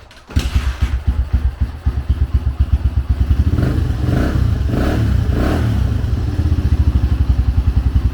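A 2004 Honda CRF 150 dirt bike with a clutch and shifting fault starts up nearby and settles into a loud, rapid single-cylinder thump, then blips its throttle in several short revs before dropping back to a steady idle.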